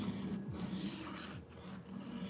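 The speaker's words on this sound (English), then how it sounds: "So right now I'm on a 320 grit diamond stone." A blade is sharpened on a 320 grit diamond stone with a soft, continuous gritty rasp. Faint strokes slide back and forth and pause briefly between passes, with no talking.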